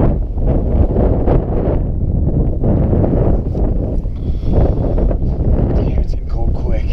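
Strong wind buffets the microphone during multi-pitch rock climbing in a Colorado canyon, a loud continuous rumbling roar filling the whole clip with a few gusty swells, while voices can be heard faintly under it.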